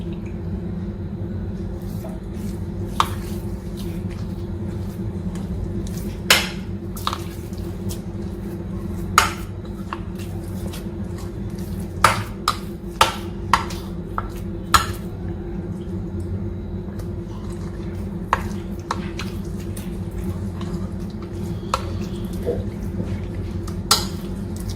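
Milk is stirred into a thick sai batter, a traditional Uttarakhand sweet. Sparse, faint clinks and scrapes of a utensil against a vessel come over a steady background hum.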